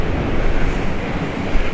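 Stormy sea waves surge and wash along the Paphos seafront in a loud, continuous churning rush, close by and mixed with gusting wind buffeting the microphone.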